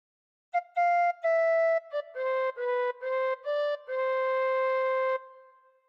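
A tin whistle plays a short phrase of Home on the Range, a run of clear, close notes tongued separately before a final held note that fades out.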